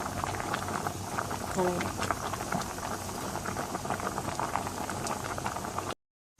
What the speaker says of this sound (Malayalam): അരി വെന്ത് തുടങ്ങിയിട്ടുണ്ട്